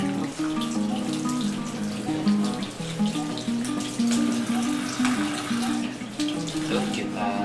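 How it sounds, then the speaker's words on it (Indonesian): Ginger root, skin still on, is rinsed under a running kitchen tap, giving a steady splash of water throughout beneath a layer of music. "Kita cuci juga jahenya dengan kulitnya, jahenya jangan dibuang ya, cuci yang bersih aja."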